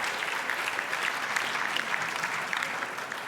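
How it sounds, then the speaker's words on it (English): Applause at an ethnic business awards ceremony, a crowd clapping in a dense, even wash that carries on without a break, moderately loud and slightly receding toward the end. "round of applause for that"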